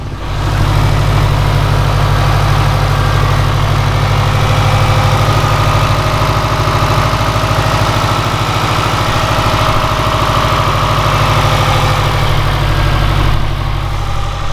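A Subaru WRX engine idles while warming up, giving a loud, steady low rumble that holds constant without revving.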